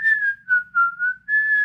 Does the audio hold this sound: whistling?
yes